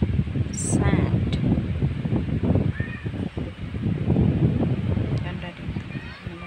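Gusty wind at a beach resort on the sand, a steady broadband rush with microphone buffeting that swells and eases throughout, while people talk over it nearby.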